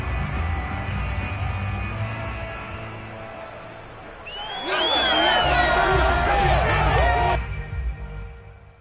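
A home crowd at a Buffalo football game roars into cheering and whoops that swell halfway through, loud and sustained for a few seconds before easing off, over a steady stadium murmur and commentary.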